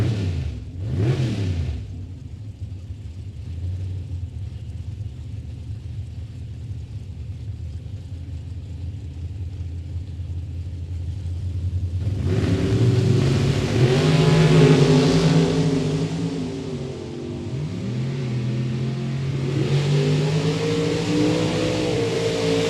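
Drag racing cars at a Michigan motorplex, including a 1967 Oldsmobile 442, launch with a rising roar after a brief pass and quieter idle, engines revving hard and rumbling through the run.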